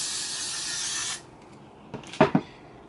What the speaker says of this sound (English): So I'm gonna take this spray, spray it in my hair,